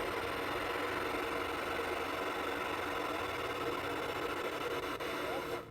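The small steam engine of a detailed model tugboat runs with a continuous, even, close hiss and rumble that stays level throughout and drops slightly at the very end.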